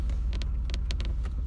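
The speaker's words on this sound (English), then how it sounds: "the car started after we walked back to it" A car engine idles steadily just after starting, a close low rumble with a few faint clicks and knocks over it.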